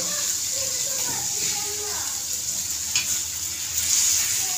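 Surmai fish coated in rava frying on a hot tawa, giving a steady, close sizzle with a few scrapes from turning the pieces while someone talks over it.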